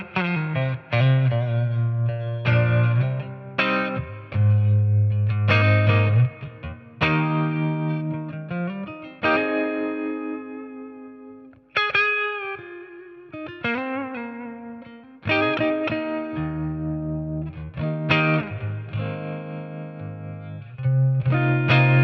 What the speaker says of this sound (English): next up, I've got a tremolo added with a bit of reverb.